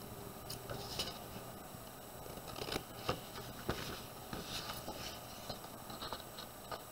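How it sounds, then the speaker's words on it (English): Faint snipping and crisp scratchy cuts of scissors through paper, a few soft irregular snips over low background hiss. "And you can use the scissors for this part."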